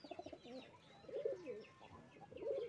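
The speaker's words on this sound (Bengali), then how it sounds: "পায়রা গুলোকে এদিকে খাওয়া দেবো" Pigeons cooing softly while being fed outdoors in the rain, with a few low rolling coos, faint and close, and some light chirps in between.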